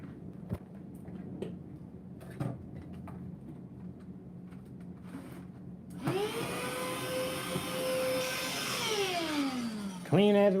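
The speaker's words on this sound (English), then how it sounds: "Get my vacuum. I want to clean as I go." A household vacuum cleaner starts after some quiet bumps and handling, spinning up to a loud steady whine with rising and falling tones, then surging louder near the end as it is moved.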